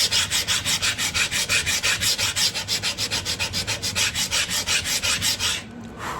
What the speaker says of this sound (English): I'm gonna take a little sanding block here.